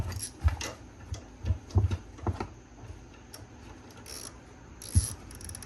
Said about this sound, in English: So then you can go ahead and remove the bolt.